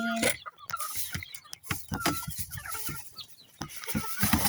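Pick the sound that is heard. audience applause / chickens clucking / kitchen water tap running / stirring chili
chickens clucking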